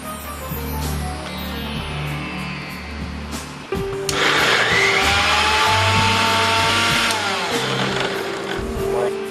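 A kitchen grinder churns boiled vegetables such as baby corn and green peas, starting with a loud, harsh whirring burst that keeps going steadily over the lower mechanical hum heard before it.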